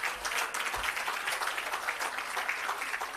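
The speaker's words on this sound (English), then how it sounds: "Please give her another round of applause." Audience at the commissioning of an irrigation system applauding steadily, a dense, even patter of many hands that carries on without a break at moderate distance.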